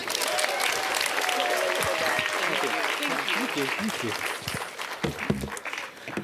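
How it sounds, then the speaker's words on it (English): An audience at a solidarity and justice gathering applauds with loud, sustained clapping that fades toward the end while a voice speaks briefly over it. "Round of applause"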